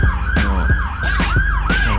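An ambulance siren wails in a loud, rising-and-falling pattern, passing close by on a seaside road, with traffic rumbling underneath.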